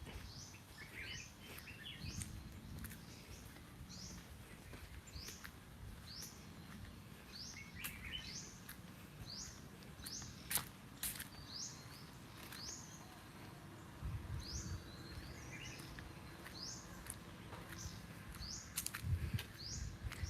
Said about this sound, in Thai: ได้ยินเสียงนกร้องไหมครับ